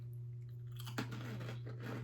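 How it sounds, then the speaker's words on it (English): Crunching bites into a tiny cigar-shaped savory Thai snack, a sharp crack followed by close, crackly chewing over a steady low hum, with no talking. "The crunch is, wow, phenomenal."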